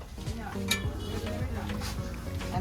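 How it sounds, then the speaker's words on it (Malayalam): Banana fritters (pazhampori) fry in hot oil in a busy kitchen by Edassery Beach, a steady sizzle with occasional stirring and utensil clinks, faint voices in the background. "നല്ല ചൂടുള്ള പഴംപൊരി വറുത്ത് കോരിക്കൊണ്ടിരിക്കുന്നു."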